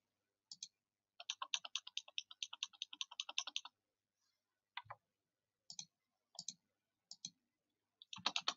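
A computer mouse clicks repeatedly while editing a yearbook spread, a quick run of close, crisp clicks followed by scattered single and paired clicks with silent gaps.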